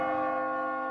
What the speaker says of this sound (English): As you near the top, you will hear a bell ring.